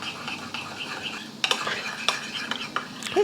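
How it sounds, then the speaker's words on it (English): A spoon stirs sauce ingredients with ground white pepper in a bowl, making soft scraping swirls with a few sharper clinks against the side over a few seconds. "Okay, we're just gonna stir this together."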